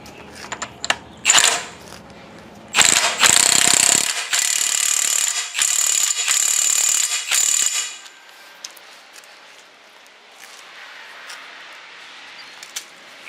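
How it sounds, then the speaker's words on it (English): An impact wrench working on a service truck's hydraulic cylinder, giving a loud, close, rattling mechanical burst of about five seconds that ends in a few pulses, with quiet shop background before and after. "Go grab an impact."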